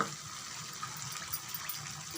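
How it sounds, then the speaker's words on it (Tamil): Steady trickle of water pouring into a thick mixture, a soft continuous splashing and gurgle with no voices. "இன்னும் கொஞ்சம் தண்ணி சேர்த்துக்கலாம்."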